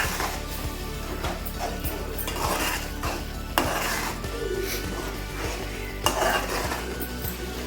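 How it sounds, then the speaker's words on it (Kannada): A spoon stirring egg masala spices with coriander powder and salt in a metal pan, repeated scraping and clinking strokes with a light sizzle beneath, close and steady. "ನೀಟಾಗಿ ಮಿಕ್ಸ್ ಮಾಡಿ."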